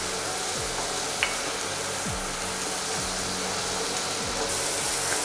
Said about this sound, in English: And fry it for around 30 seconds.